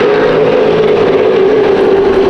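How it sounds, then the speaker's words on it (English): A late model race car engine drones at Irwindale Speedway, a very loud, steady, close-up roar with a sustained tone that barely shifts across the short span. "but it's going to be Tony McRae winning the first late model race of the night."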